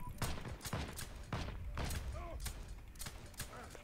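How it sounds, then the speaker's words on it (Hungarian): Gunfire from target shooting in a first-person shooter game: about eight sharp shots fire in an irregular rhythm, each followed by a mechanical clatter, moderately loud with faint talk and game noise underneath. "Akkor célba lövés."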